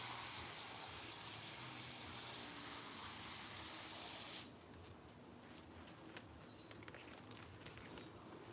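Self-irrigated garden planters being watered with a hose or can: a strong hiss of spraying water for about four seconds, then a softer trickle with birds faintly in the background.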